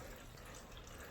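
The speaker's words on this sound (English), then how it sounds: "Then let your coolant flow out till it's empty." Coolant draining out of a 1998 Toyota Camry V6 radiator makes a soft, steady watery trickle, faint and continuous for about a second, with no voices.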